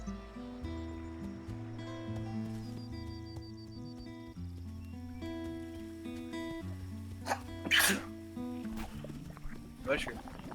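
A single sharp sneeze bursts out once near the end, loud and close, over steady background music during a casual drawing session.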